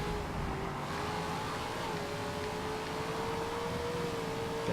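A heavy muscle car engine in the racing game Forza Motorsport 7 drones steadily throughout, a continuous sustained tone that shifts slightly in pitch as the car drives on, with no talking.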